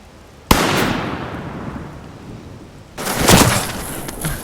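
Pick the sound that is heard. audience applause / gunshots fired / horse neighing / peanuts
gunshots fired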